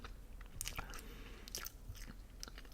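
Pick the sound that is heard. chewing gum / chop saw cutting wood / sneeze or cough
chewing gum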